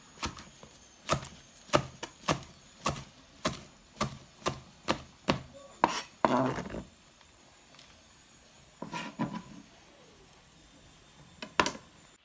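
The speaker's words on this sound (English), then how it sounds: "So if we cut the chili like this," A knife chopping chili on a cutting board in a home kitchen, about a dozen evenly spaced, crisp chops, followed by a few scattered cuts after a pause.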